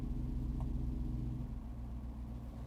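A 2022 Jeep Wrangler Unlimited Rubicon 392 engine runs with its performance exhaust switched off, a muted low rumble heard from inside the cab, steady and fairly quiet, easing slightly softer toward the end.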